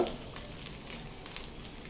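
Asafoetida dropped into hot oil for a tempering, a faint, steady sizzle with soft crackling throughout a short moment.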